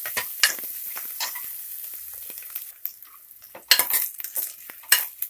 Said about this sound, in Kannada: ಈರುಳ್ಳಿ ಕಂದು ಬಣ್ಣ ಬರಬೇಕು, ಅಲ್ಲಿ ಗಂಟ ಫ್ರೈ ಮಾಡ್ಕೊಳ್ಳಿ.